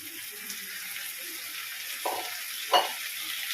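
Chopped tomato sizzling in a hot pan during home cooking, a steady close frying hiss throughout with two short clattering bursts as pieces are added and stirred.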